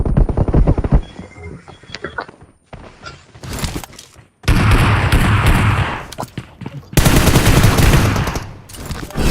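Gunfire in a 3v3 mode of a multiplayer shooter video game, with dense bursts of automatic fire at close range. The bursts alternate with quieter stretches where players talk.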